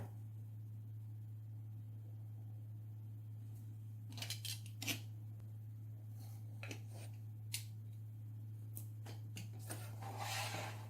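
Scissors trimming excess paper from a mini album page, a scatter of small crisp snips and rustles over a steady low electrical hum, close but quiet, with no voices.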